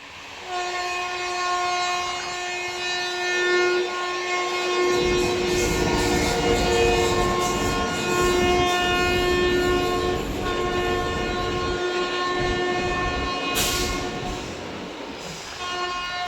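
An Amrit Bharat special train passes on the line with a long, loud horn held over a continuous rumble and rattle of wagons, close by and steady for the whole stretch.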